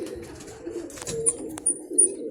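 Pigeons settling at a rooftop loft give soft, low cooing under a steady murmur, punctuated by a few sharp high chirps and light clicks.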